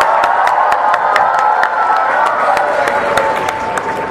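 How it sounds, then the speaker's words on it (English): Crowd at a school's senior last assembly cheers and claps steadily, a dense wash of applause with sharp individual claps punctuating it throughout, loud and sustained. "Cheer now."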